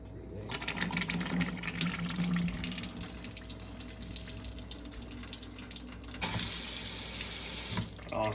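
Water runs steadily from a filtered kitchen tap into a sink, a continuous close splashing stream that grows louder and brighter partway through as the flow changes.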